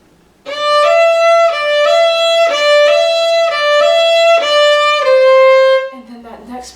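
A solo fiddle plays the old-time tune Old Melinda slowly in a string of sustained, bowed notes, each note changing at a steady pace. The fiddle is close and clear, then ends with a short lower phrase.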